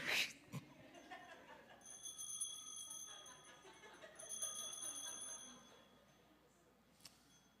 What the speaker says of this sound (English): I think there's something about those bells offering grace